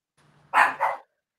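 A dog gives two quick barks, close by and fairly loud, with the second bark a little softer than the first, against an otherwise quiet background.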